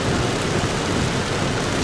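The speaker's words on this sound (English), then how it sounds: "It's getting very rainy." Heavy rain pours steadily in a springtime outdoor setting, a dense, loud and unbroken wash of noise with no gaps and no voices.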